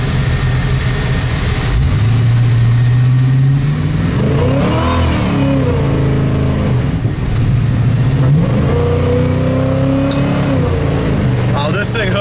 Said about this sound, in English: Up and goes, guys. Tons of power, 70 mile an hour, just like that.